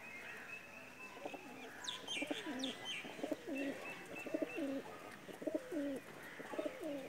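A female breeder pigeon, nesting on eggs, coos in a repeated series of soft low phrases, with faint chirps of other birds in the background.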